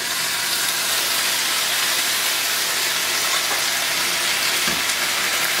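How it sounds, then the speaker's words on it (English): Steady, loud sizzling and hissing of a little water added to a hot pan to steam an egg, a continuous broadband steam hiss with no voices. "Now we're going to add just a little bit of water, and this is going to steam the egg."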